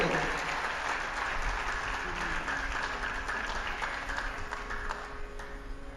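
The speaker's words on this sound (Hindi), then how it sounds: "तालियां बड़ी कमजोर है, जैसी तालियां होनी चाहिए दिल्ली तक आवाज सुनाई दे" Modest applause from an audience at a spiritual discourse, a soft, even patter of clapping that fades slightly toward the end, heard at a distance.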